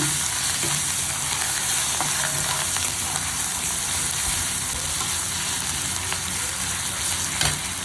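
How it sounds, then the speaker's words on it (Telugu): Ginger garlic paste fries in hot oil, a loud, dense, unbroken sizzle with faint stirring taps running throughout, no voices. "అల్ల అల్ల వెల్లుల్లి పేస్ట్ వేస్తాను కొంచెం పచ్చి వాసన పోయేదా వేగి"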